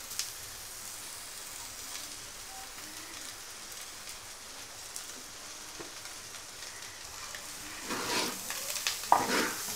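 Steady low sizzling fills a frying pan while chicken is added bit by bit for chicken thoran, with louder bursts of crackle and stirring near the end.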